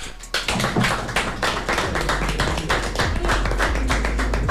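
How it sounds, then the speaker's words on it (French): Dense, steady applause fills a radio studio after a performance, loud and close with rapid overlapping claps that carry on without pause. "On va donner un tonnerre d'applaudissements"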